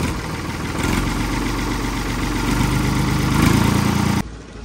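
A cold tractor engine idles steadily, a loud, continuous low rumble with a rapid throbbing pulse that swells slightly before cutting away near the end.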